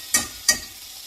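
Bacon grease hits a hot pan in two short, bright sizzling bursts about a third of a second apart, each fading quickly over a low background hum.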